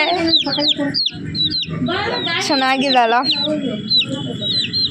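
Chick chirps from a small chicken chick carried home during a village deity festival, high thin peeps repeating through steady nearby talk.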